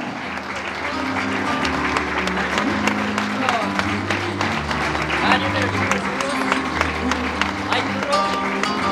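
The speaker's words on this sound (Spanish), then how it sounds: "va fuerte el aplauso porque ingresan jinetes y el personal de campo" Strong, sustained applause from a large crowd at a criolla rodeo festival in Prado as riders and field staff enter, with an announcer talking over the clapping throughout.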